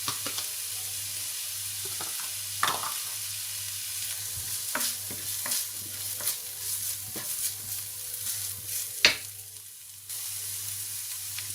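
Chopped vegetables with green chili fry in a pan for spring roll filling, with a soft continuous sizzle and irregular clacks and scrapes of a spoon stirring, including one sharper knock near the end; no one speaks.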